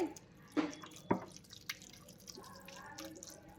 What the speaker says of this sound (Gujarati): આવી રીતે એક મિનિટ માટે આવી રીતે પાણી નીતરવા રાખી દઈએ આને